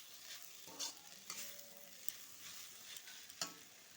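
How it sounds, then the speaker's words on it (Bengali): Jute leaves are stir-fried in a pan, a close, soft sizzle with scraping spatula strokes at irregular intervals and a few sharp clicks, no talking. "এইভাবে ভাজা ভাজা করতে থাকবো।"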